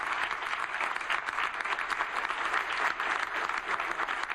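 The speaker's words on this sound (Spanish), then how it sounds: "Se pusieron en pie y aplaudieron." An audience applauds in a steady, dense wash of clapping that holds at an even level throughout, with no voices standing out.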